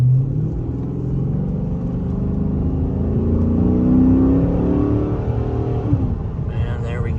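A tuned Chrysler 300C SRT8 with the 392 Hemi V8, about 450 horsepower, accelerating hard from inside the cabin: a deep, steady engine roar that climbs in pitch through the pull, then eases off near the end.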